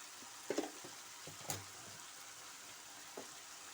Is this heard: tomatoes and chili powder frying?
yes